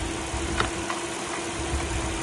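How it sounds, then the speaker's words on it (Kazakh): A 2017 Hyundai Grandeur IG with a 3-litre V6 running on factory-fitted gas and about 253,000 km on it idles with a steady, even hum and faint ticking, recorded close up with no talking. "Моторымыз сықылдап тұр, керемет жұмыс жасап тұр."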